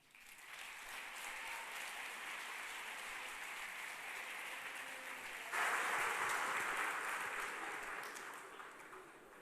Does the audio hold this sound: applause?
yes